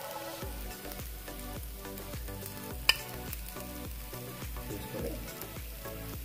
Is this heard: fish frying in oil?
yes